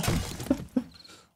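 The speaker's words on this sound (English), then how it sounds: "I think I destroyed the desk." A wooden desk in the zombie survival game 7 Days to Die breaks apart, a short crashing shatter followed by two dull thuds that fade quickly.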